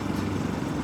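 A motorcycle rides along a rural road near Jaru, Rondônia. Its engine drones steadily and close, mixed with rushing wind noise, and no one talks.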